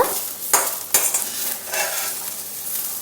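Baby corn sautéed with cumin in a pan for butter gravy, giving a soft steady sizzle with a couple of sharp spatula scrapes and clinks near the start, close and fairly quiet with no talk.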